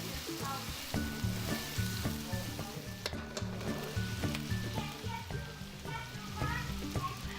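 Garlic joins vegetables in a hot pan for Singapore rice noodles, with a loud, continuous sizzle and a rhythmic clatter of stirring running throughout.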